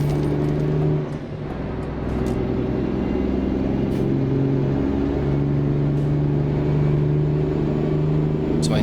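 Renault Magnum truck engine in Euro Truck Simulator, a loud continuous low rumble with shifting tones as revs rise and fall, a brief dip near the first second, steady throughout.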